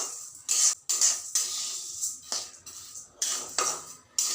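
Rava (semolina) is roasted and stirred in a pan for soft idli, with close, rhythmic scraping strokes of a spoon against the metal, repeated about eight times with brief pauses between.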